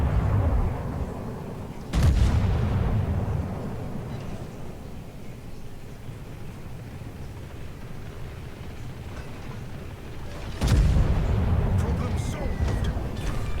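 Two heavy naval artillery blasts from World of Warships, a dreadnought battle, boom about nine seconds apart. Each is a loud broadband burst that rumbles away over a continuous low engine and sea drone.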